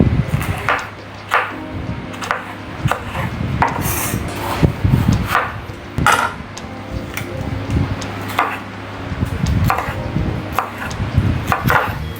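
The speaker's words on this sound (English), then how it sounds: "Next I'll be chopping my bell pepper." A knife chops bell pepper on a cutting board, with repeated sharp thuds at an uneven rhythm, close and fairly loud, mixed with soft scraping.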